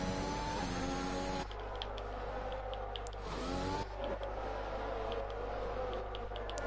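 Race cars roll on a formation lap around the Brazil circuit in a racing video game league, with engines whining and droning steadily and pitch sweeping up and down as they weave to warm their tyres, loud and without talk.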